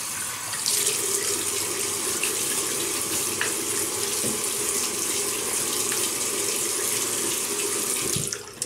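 Tap water runs steadily into a sink while a face is wetted before shaving, a close, continuous splashing gush that starts abruptly, holds even and loud, then cuts off near the end.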